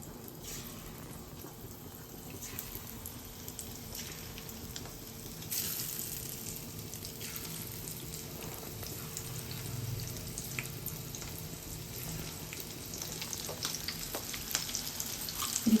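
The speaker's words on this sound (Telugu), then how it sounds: "మనం ఇది ఇలా ఒక్కొక్కటి ఈ కాగే నూనెలో వేసుకోవాలండి" Prawn pakodas dropped one by one into hot oil for deep-frying, giving a steady low sizzle and bubbling throughout, with a faint running-water hiss and brief kitchen clatter.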